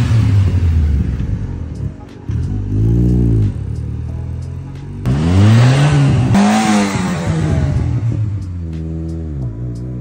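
Toyota Corolla project car engine revving hard on a test drive, several rising and falling rev sweeps with strong harmonics, loud and close, with a brief dip in between.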